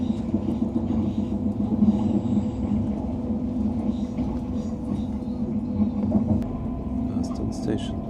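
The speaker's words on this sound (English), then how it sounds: "catching the 9:44 Manchester Airport to Redcar Transpennine Express service" A TransPennine Express service from Manchester Airport to Redcar rumbles along, a steady low onboard drone and rattle that runs beneath someone talking throughout.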